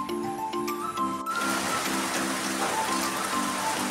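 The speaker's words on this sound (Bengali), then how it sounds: "বাইরে অবিরাম বৃষ্টি পড়েই চলেছে।" Continuous rain falls outside, making a dense, even hiss that fills the clip after a brief quieter start with faint tonal hum.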